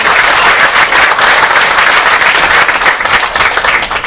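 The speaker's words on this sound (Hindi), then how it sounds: "तो एक जोरदार ताली हो जाए इसके लिए।" Loud, vigorous applause from an audience at a DXN India business presentation, a dense continuous wash of clapping that holds steady from start to finish.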